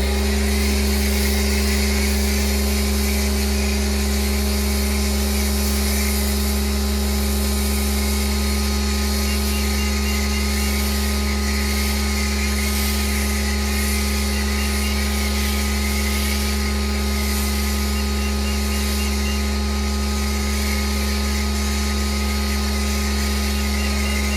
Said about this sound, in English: we've switched over to the Amazon foam cannon